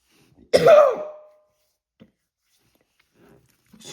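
A woman clears her throat in one harsh, close burst followed by a short cough-like rasp, then near silence with a couple of faint clicks.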